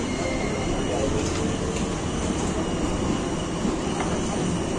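A Sealdah–Laxmikantapur local train runs along in rain, a loud continuous rumbling roar of wheels and carriage noise, close and unbroken throughout.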